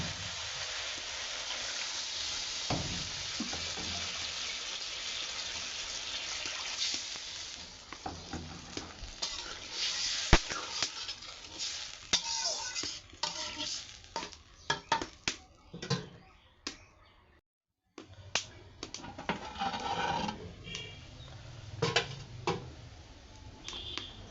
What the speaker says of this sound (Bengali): গ্যাস টমেটোটা কষানো হলো